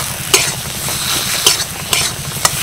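A spoon stirring a banana flower (mocha) vegetarian mash in a pan, steady scraping and mixing over a constant sizzle, with a few sharper clinks against the metal.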